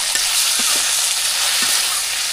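Noodles tossed into a pan of already-fried onions in a Bangladeshi village kitchen, giving a steady, loud, close sizzle with faint scraping stirs throughout.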